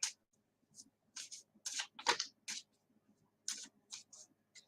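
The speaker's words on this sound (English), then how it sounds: "I will shuffle for you" A deck of cards is shuffled close up in a quiet room, a series of short, crisp riffles and flicks in irregular bursts with pauses between.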